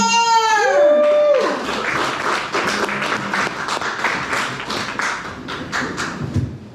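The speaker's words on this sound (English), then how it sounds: "please give a big round of applause for Scott Schaefer!" Applause and cheering from a comedy show audience at Thanksgiving, rising as a comedian named Scott Schaefer takes the stage. A sustained, loud wash of clapping follows a brief swooping music cue at the start.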